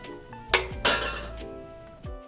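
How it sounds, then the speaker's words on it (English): Pan sauce with vegetables is spooned out and strained through a strainer, bringing a few metallic clanks and clinks of utensils against cookware followed by a soft pouring wash. "I'm gonna spoon out those vegetables and I'm gonna start straining all of this pan sauce through here."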